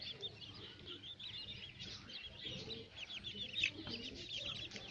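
Young chicks, some about 36 days old and others about a month old, clucking and peeping continuously in a busy flock, with soft chirps layered over low background rumble at a moderate distance.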